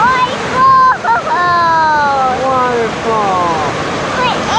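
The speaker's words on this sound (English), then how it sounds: "Waterfall." A waterfall on a family hike near Red Lodge, Montana gives a steady rushing roar beneath people talking close by.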